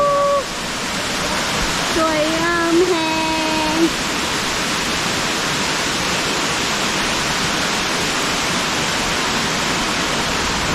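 Steady roaring rush of a forest waterfall, loud and continuous throughout, with a brief spoken exclamation near the start layered over the water noise.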